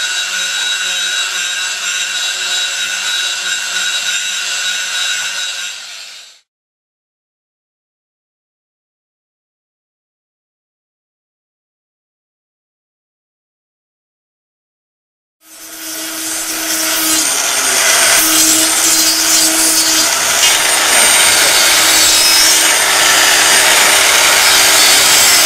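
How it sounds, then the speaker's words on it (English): A Repair Care power sander works a cured resin surface, a loud, steady abrasive whir that cuts out to silence for several seconds, then starts again and runs on, slightly louder. "This is the Repair Care sander being used to remove a glossy surface and provide a good key for the decorative finish."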